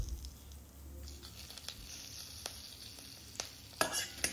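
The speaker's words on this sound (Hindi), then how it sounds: "बटर मेल्ट होने के बाद इसमें डालेंगे तेज़पत्ता और" Bay leaves and lime leaves sizzle in melted butter in a kadai, a quiet steady crackle broken by a few sharp clicks of a spoon stirring, louder scraping near the end.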